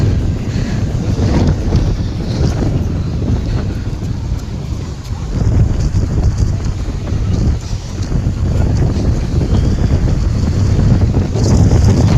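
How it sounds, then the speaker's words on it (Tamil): Sea waves roll onto a shore in a steady roar mixed with heavy wind buffeting the microphone, loud and continuous throughout. "பயமாவே இருக்கு, எப்படி அலை வந்துட்டு இருக்கு பாருங்க ஃப்ரெண்ட்ஸ்."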